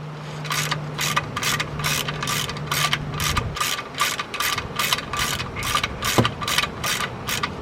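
Ratchet wrench with a 14 mm socket tightening the oil drain plug on a 2004–2009 Toyota Prius, a steady series of close clicking pawl strokes over a low mechanical hum, with no speech.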